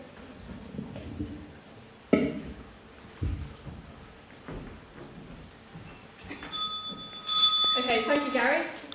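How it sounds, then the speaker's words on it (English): A hand bell is rung to start a timed talk on stage, ringing out in bright bursts near the end after scattered thumps and room noise at an event. "Charlotte's time will start when Hilary rings her bell"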